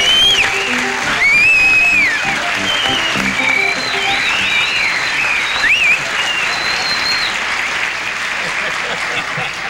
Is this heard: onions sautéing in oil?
no